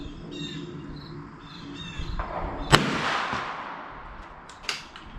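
A single .410 slug fired from a Browning BPS pump shotgun at an outdoor 50-yard range, a sharp loud crack midway followed by a fading echo, with insects buzzing in the background and a fainter pop near the end.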